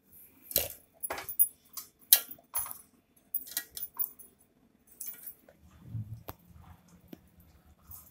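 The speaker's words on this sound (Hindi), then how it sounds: "ये मैंने डेट्स को रफली क्रश कर लिया" Dates being roughly crushed for dry-fruit laddu, made without ghee or sugar. A series of sharp, uneven knocks and taps ring out close by, with short pauses between them.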